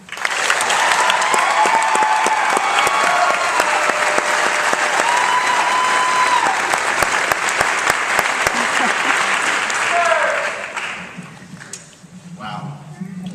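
Audience applause welcoming graduation speaker Zach Kirby at a May 2011 ceremony, a sustained dense clapping that runs steadily for about ten seconds before thinning out, with faint voices and stray claps in the fading tail.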